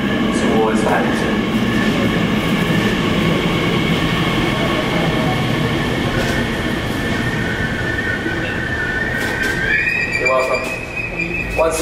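A Class 345 electric passenger train runs steadily westbound towards Paddington at Custom House station, with a loud continuous rumble and rising whine of motors, wheels squealing faintly on the rails.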